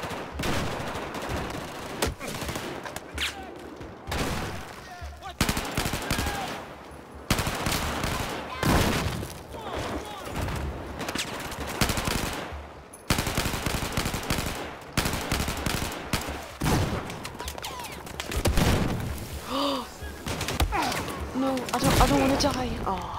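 Rapid automatic fire from a CZ rifle in the video game Battlefield 4, bursts repeating across the clip with short gaps, loud and dense under other game effects.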